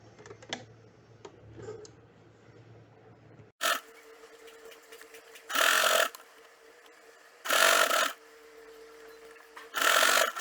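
A home sewing machine stitching lace onto a puff sleeve, heard as three loud mechanical runs of about a second each, separated by pauses with faint ticking and handling of fabric.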